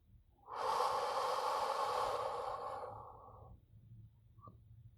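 A long, slow breath out during a guided sleep meditation, a close, breathy exhale lasting about three seconds and fading out, followed by quiet and a tiny click.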